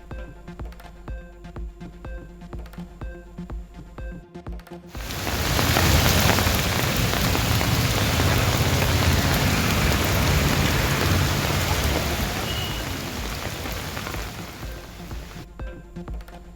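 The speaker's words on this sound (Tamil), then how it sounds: "கோவை மாவட்டத்தில் வெளுத்து வாங்கிய மழையால் சாலையில் பெருக்கெடுத்து ஓடிய மழைநீர்." Heavy rain pours in Coimbatore district as rainwater floods along a road, a loud, dense, steady roar of rain and running water that swells in after a quieter start and eases slightly toward the end.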